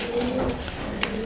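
A racing pigeon coos close by, giving one short, soft throaty coo with no voices over it.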